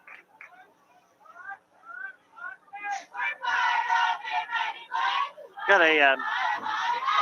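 A Herington home crowd at a high school football game against Marion cheers, starting with scattered shouts and whoops, then swelling into a loud, sustained roar of many voices.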